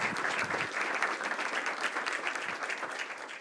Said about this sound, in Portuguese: Vamos receber com aplauso de boas-vindas?